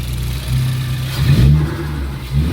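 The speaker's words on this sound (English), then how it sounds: "I wasn't able to hear the blow-off valve." A 2018 Ford Focus ST with its sound symposer deleted revs up and settles, a loud, close engine note rising and falling over a couple of seconds with no talk.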